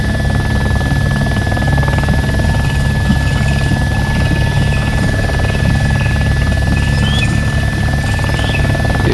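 A helicopter in the video game ArmA 2: Operation Arrowhead drones continuously with a loud, throbbing rotor and engine roar and a steady whine on top, near and unbroken for the whole stretch with no talk.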